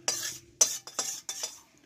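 A metal spatula scrapes and spreads cooked tomato paste thin across a plate in four or five short, close strokes, each a bright rasping swish with brief pauses between, and no talking.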